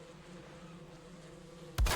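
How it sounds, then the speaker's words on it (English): Bees in the video game Valheim hum with a low, steady, quiet buzz that drones throughout, broken near the end by a short louder thump. "And those bees are perfectly fine there."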